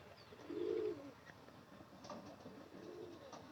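Pigeons coo softly nearby, one low rolling coo rising clearly at first, then fainter coos and murmurs continuing over a quiet background with no talk.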